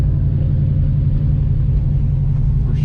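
Deep, steady rumble of a 1969 Pontiac Firebird V8 running close by, a low even drone that holds through the whole stretch without clear revving.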